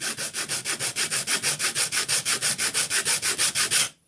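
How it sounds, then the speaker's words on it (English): Sandpaper is rubbed back and forth across a 3D-printed mold part in about twenty quick, even, scratchy strokes, close and loud, before stopping abruptly. "give it a little sanding."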